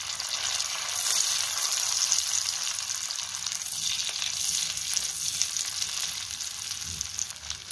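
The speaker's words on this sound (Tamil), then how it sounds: "பூண்டு நல்லா ஃப்ரை ஆனோடனே பச்சை மிளகாய் போட்டுக்கலாம்." Garlic and green chilies fry in hot butter with a continuous dense sizzle that holds steady and close throughout, with no voices.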